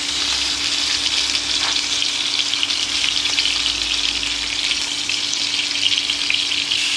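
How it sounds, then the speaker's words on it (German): Fish fries in garlic-laced oil with a bright, dense sizzle that hisses steadily and close up for several seconds, with faint stirring clicks and no talking. "Fisch rein, braten."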